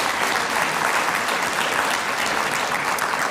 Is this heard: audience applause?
yes